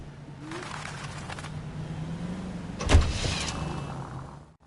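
A car drives in the video game L.A. Noire, a low engine hum on a quiet street with a brief louder whoosh around the middle before it fades out.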